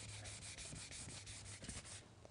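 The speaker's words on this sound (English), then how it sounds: "I went through and finished sanding all the heavy chips with the 600 grit sandpaper." Fine 600 grit sandpaper rubs over chipped automotive paint in quick, even back-and-forth strokes, a soft rhythmic hiss repeating close up and quiet.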